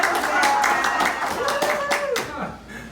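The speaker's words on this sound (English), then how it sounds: "you can clap. It's all right." An audience at a plant-based cooking demonstration claps in a brief burst of applause, close and fairly loud, while someone talks over it and the clapping tapers off toward the end.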